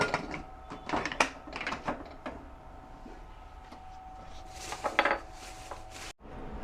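Metal clinks and light clatter as the whistle weight is fitted onto a pressure cooker lid during chicken curry cooking, a few sharp knocks and taps close by in a quiet kitchen.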